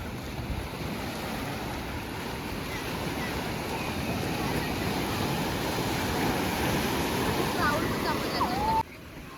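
Ocean waves washing onto a crowded evening beach at Devgad, a continuous close rush of surf mixed with wind buffeting the microphone, with a short quieter tail at the end.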